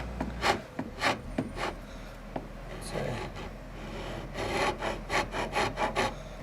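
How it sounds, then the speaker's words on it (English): An old wood file rasps back and forth across a Stratocaster guitar neck, scalloping it in a Blackmore style, giving rhythmic rough scraping strokes up close with brief pauses between. "Give it a bit of a scrape here. This is an old wood file"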